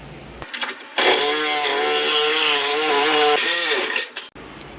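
A power saw cuts through car body metal near the strut tower while the front end is being trimmed for a tube front, a loud steady whine lasting about three seconds between brief starts and stops.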